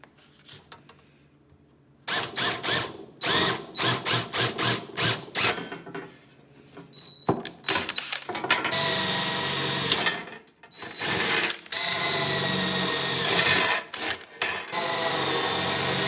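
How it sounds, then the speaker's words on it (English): Work on the metal wheel house of a 1965 VW Beetle under restoration, loud and close: a quiet start, then bursts of grinding, rasping tool noise that turn into long sustained runs. "I'm gonna have to drill some holes."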